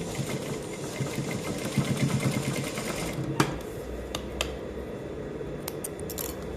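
A sewing machine sews a zipper into women's trousers, humming steadily at close range, then easing off into a few sharp clicks and taps.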